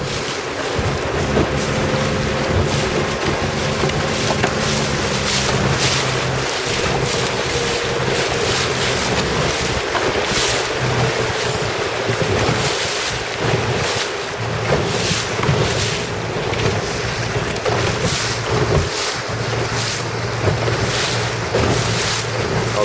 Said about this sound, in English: This is not such a natural wind, at least where we are right now.